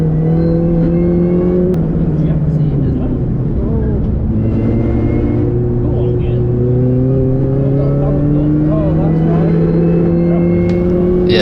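A Mini Cooper S R53 engine revs hard and continuously on a race track, pitch climbing and dropping through gear changes, loud and close throughout.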